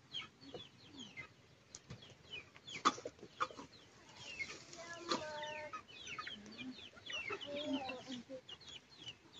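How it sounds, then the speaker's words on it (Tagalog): Free-roaming chickens on a hillside farm cluck and chatter in an irregular stream of short calls, some near and others farther off, with a few louder squawks and faint rustling, and no clear talking. "Naabot dagan kay silang manok guys."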